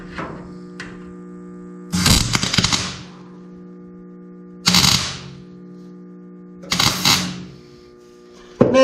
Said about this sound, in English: We'll get us a tack weld started.